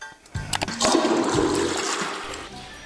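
Toilet flush effect from the Lucky Neko slot game: a loud rushing, swirling gush of water that starts abruptly and keeps draining steadily to the end, with no talk over it.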